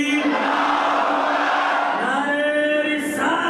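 Crowd at a Muharram religious gathering in Jamnagar chanting back in response to a religious slogan, a dense sustained mass of voices filling the space, loud and continuous.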